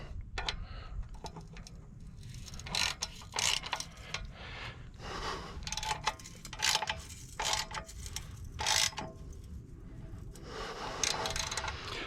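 Metal tools click and tick irregularly while an HMF Swamp Series XL exhaust is tightened down on a 2019 Suzuki King Quad 750, with close, sharp taps and rattles over a low background rumble.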